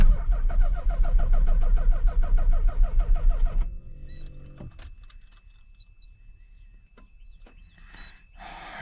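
Nissan 240SX engine cranking over on a freshly installed ECU tune, a loud rhythmic starter churn for several seconds that stops abruptly, followed by quiet clicks and small handling noises.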